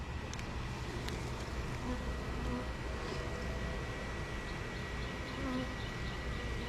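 Honey bees buzzing steadily around an open hive during a brood inspection, a dense continuous drone close by with no voices.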